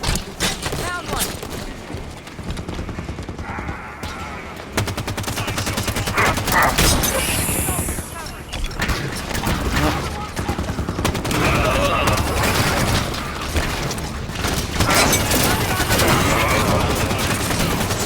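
Auto turrets opening fire in the video game Halo 5, sustained rapid bursts of automatic gunfire with booming impacts, loud and continuous over several seconds, mixed with game effects and occasional speech.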